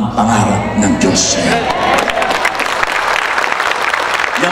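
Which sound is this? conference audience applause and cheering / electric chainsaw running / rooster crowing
conference audience applause and cheering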